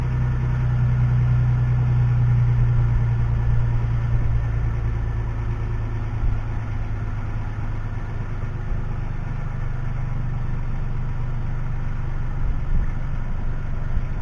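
A 2013 Toyota Sienna minivan with its muffler deleted idles steadily, a loud, constant low exhaust drone with a deep hum running unbroken throughout, no talking.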